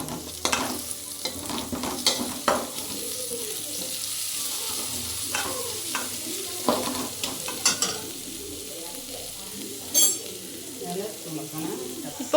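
Egg curry is stirred in a pan with turmeric and cumin powder, giving a soft sizzle broken by repeated scraping strokes, with a few sharper clinks along the way.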